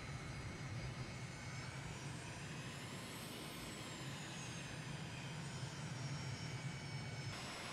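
An MB-339 jet taxis in Microsoft Flight Simulator, its engine a steady, even whine and roar with a high tone that rises and falls briefly midway; no one speaks.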